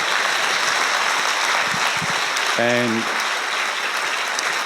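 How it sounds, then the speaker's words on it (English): Audience at a university thesis competition applauding steadily and loudly, a continuous wash of clapping throughout, with a short spoken word briefly over it. "thank the organisers and the contestants again with a final round of applause, please."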